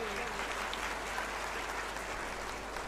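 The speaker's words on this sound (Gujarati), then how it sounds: "ખૂબ સુંદર જોરદાર તાળીઓના ગડગડાટથી" Audience applause at a Gujarati motivational talk, a steady, fairly faint wash of clapping across the full few seconds.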